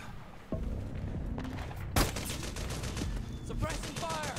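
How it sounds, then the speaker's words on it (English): Suppressing gunfire in Metal Gear Solid 4, with a loud sharp shot near the start followed by rapid repeated bursts over a noisy battlefield backdrop. "Suppressing fire"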